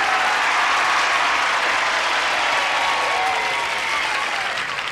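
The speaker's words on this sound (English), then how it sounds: "why don't we ask this audience here to join us with a brisk round of applause as we greet our stars" Studio audience breaks into dense, sustained applause to greet the show's stars, loud and even throughout and easing off slightly toward the end, with faint voices mixed in.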